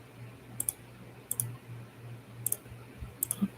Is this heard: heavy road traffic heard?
no